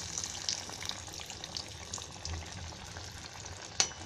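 Flour-coated salmon (rawas) fish deep-fries in hot oil with a steady, close sizzle and crackle, and a sharp spatter near the end.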